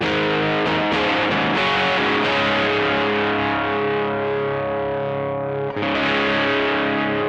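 Electric guitar through a Mosky Brown Distortion pedal in high-gain, Marshall-style tone, sustained crunchy chords ringing thick and loud with a brief break near the end.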